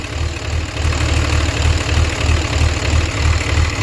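A healthy Cummins diesel truck engine idling close by, a steady low rumble with a faint rhythmic knock, running alone without talk.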